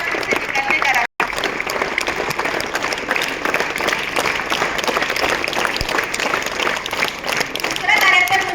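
A school audience at an annual sports competition results event breaks into sustained, dense applause, a loud wash of many hands clapping with voices mixed in throughout.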